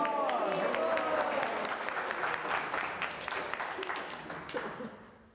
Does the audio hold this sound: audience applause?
yes